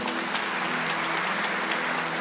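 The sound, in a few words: congregation applause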